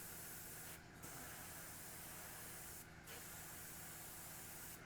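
A Mig Ammo Air Cobra airbrush sprays paint in a continuous close hiss, broken by two brief pauses in the airflow, with no voices.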